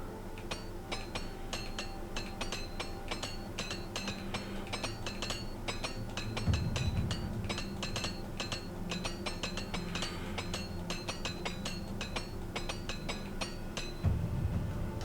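Repair hammer striking armour in Oblivion Remastered, a long rapid run of sharp metallic clinks and taps, densely repeated and steady throughout, with low thuds now and then and no talking.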